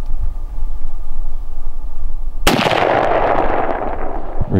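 A single loud rifle shot cracks out during a bighorn sheep hunt in the mountains, a sharp close blast that rolls into a long echoing tail after a steady low hum of wind or engine noise.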